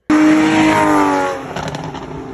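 A 2014 Porsche GT3 fitted with a Soul Performance exhaust revs hard and close. The engine bursts in sharply, and its rising harmonic wail sweeps upward. Then it falls away into a rougher, crackling settle.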